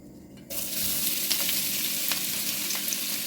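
Chopped onion hits a hot pan for Transcarpathian lecho and breaks into a loud, steady sizzle after a brief quiet start, with faint scraping and crackles running through it.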